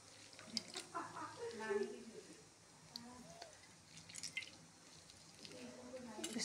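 Soaked kohrauri (fried dumplings) is drained of its water, giving soft, faint drips and wet squishes, close by, while a person talks quietly through most of it.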